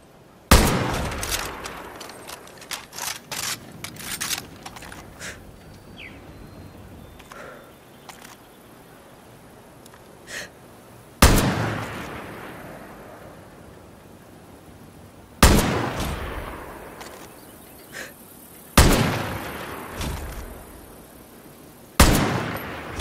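Gunshots in the Far Cry New Dawn video game: a scatter of quick shots early on, then several loud, isolated single reports spaced seconds apart, each with a ringing decay, against a quiet backdrop.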